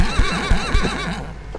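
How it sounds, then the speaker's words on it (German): Horse neighing in the MineClone2 Minecraft-clone video game, a loud synthetic whinny with repeated wavering bursts and thumping low pulses, fading out near the end. "Und ich weiß nicht, was hier ein Pferd zu suchen hat."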